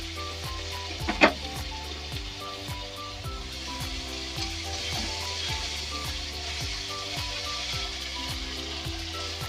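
Onion paste and ginger-garlic paste sizzle in a hot oiled pan for a Bengali katla fish kalia, a steady close frying hiss with a sharp spatter burst near the start and soft stirring scrapes throughout.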